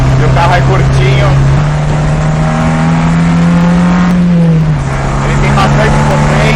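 A 1960s Brazilian race car with a short chassis revs loudly up close, its engine note rising and shifting in pitch as it accelerates, with a steady hum of road and wind noise underneath.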